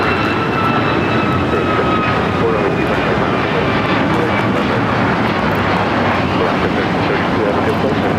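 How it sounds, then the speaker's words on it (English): Alaska Airlines Boeing 737 MAX 9 in San Francisco Giants livery taking off from LAX: loud, continuous jet engine roar filling the whole stretch, with a high whine fading early and a voice talking beneath. "This is Alaska Airlines 1332 taking off to Cancun on the MAX 9 with the San Francisco Giants livery."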